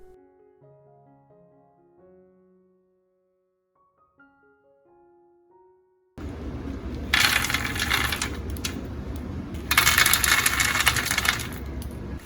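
Homemade sesame cookies being dropped into a cookie jar, heard as two bursts of dry clattering and rattling after a quiet stretch.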